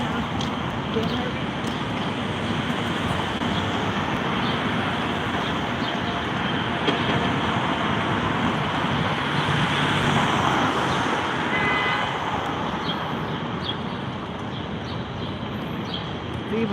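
Dense downtown Chicago street traffic with a train and buses makes a loud, steady roar and rumble that stays constant throughout, with no clear break.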